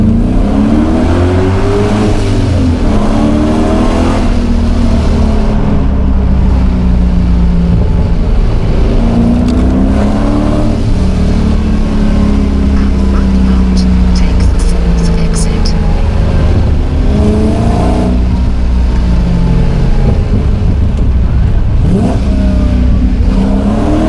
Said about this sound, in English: This is it, my first time driving through the Monaco tunnel.